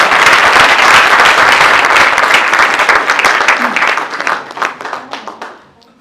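Loud, dense applause from an audience at a Basant Panchami school program, sustained for several seconds and then tapering off toward the end, with no talk over it.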